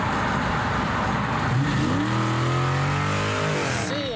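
A 2020 Dodge Charger Scat Pack accelerating hard on a race track, its engine roaring loudly up through rising gears, heard from inside the car, with a brief shift and the revs climbing again near the end.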